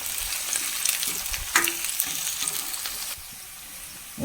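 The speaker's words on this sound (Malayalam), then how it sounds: "രണ്ട് വലിയ കഷ്ണം ഇഞ്ചി അതും കൂടി ഇട്ടിട്ടാണ് വഴറ്റണത്" Green chillies, garlic and ginger sauté in hot oil for a pickle, giving a soft steady sizzle broken by a few stirring scrapes, fairly close, with no talking.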